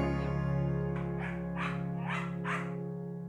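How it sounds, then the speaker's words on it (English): Several dogs bark in a loose series of about four bursts at a dog rescue shelter, heard at moderate distance over a steady low hum. "spend time with doggos who need human love while awaiting adoption"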